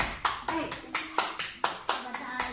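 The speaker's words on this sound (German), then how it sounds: "applaudierten, sie klatschten." Children in a classroom clap together in a steady rhythm, about eight sharp, even claps close by, with a voice chattering over them.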